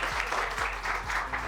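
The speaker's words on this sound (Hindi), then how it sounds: "एक ताली के साथ धन्यवाद।" Applause from an audience at a government school retirement ceremony, a steady wash of many hands clapping throughout, moderately loud and continuous with no voices over it.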